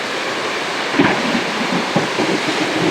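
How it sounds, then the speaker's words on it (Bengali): Heavy Kalbaishakhi storm rain pours down in a loud continuous wash, with gusty low rumbles and occasional thumps, heard from shelter in a small tin storehouse on a river char. "অনেক বৃষ্টি হচ্ছে, অনেক বৃষ্টি।"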